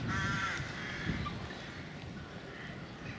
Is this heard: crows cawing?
yes